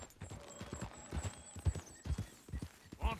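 Horse hooves from the video game Red Dead Redemption 2 clip-clop in an irregular rhythm, a few heavier thuds standing out over a low game background, with a faint whinny-like sound near the end.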